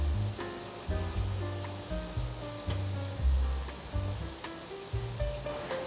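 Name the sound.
lotus root and avocado frying in pan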